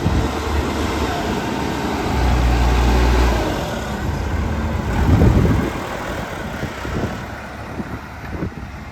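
A JCB 214S four-wheel-steer backhoe with a front quick coupler and narrow rear rock bucket drives along, its diesel engine rumbling steadily and close with a heavier surge midway.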